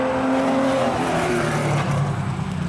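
A Porsche rally car on a classic rally stage, its engine droning steadily as it drives past at a distance with a broad, rough roar.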